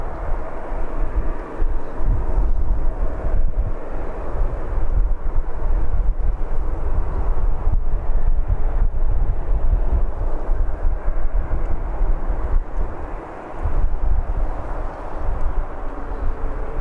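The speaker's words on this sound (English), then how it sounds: "We'll watch this one go down the runway" Airplane rolling down the runway at Birmingham Airport as a continuous, low, heavy roar that stays steady throughout, mixed with wind buffeting on the microphone, with no talk.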